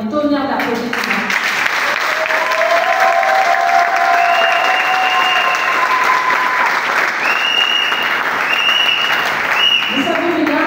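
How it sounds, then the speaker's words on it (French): A loud, sustained round of applause from the audience at a women's day graduation celebration, with dense clapping throughout and voices and brief ululating cries rising above it. "Et je voudrais qu'on donne un tonnerre d'applaudissements."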